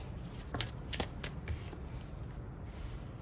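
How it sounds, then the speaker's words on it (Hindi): Tarot cards are drawn and handled close by, with a few soft, quick flicks and snaps of card stock over a quiet background. "तो आइए हम कार्ड्स निकालते हैं।"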